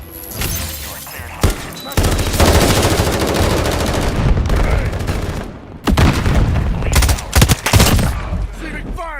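Rapid automatic gunfire and heavy bursts crackle almost continuously through a team deathmatch video game firefight, loud and close, with brief lulls between volleys and faint voice chatter underneath.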